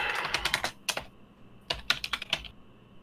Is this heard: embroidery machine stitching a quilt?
no